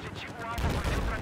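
Gunfire in Battlefield 4 multiplayer on PS4, with vehicles around the map: a brief burst of shots and booming impacts, loud and close, over dense battle noise.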